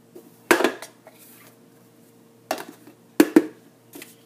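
Metal and plastic pieces of a Stanley Prep+Cook set (pot, bowls and lids) clatter as they are unpacked, giving a few sharp knocks and rattles separated by quiet gaps, close by.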